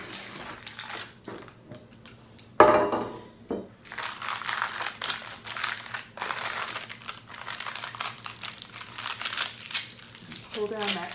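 Parchment paper crinkles and rustles as a slab of brownies is pulled out of a baking pan, with a sharp crackle followed by several seconds of steady crumpling close by, partly under a talking voice.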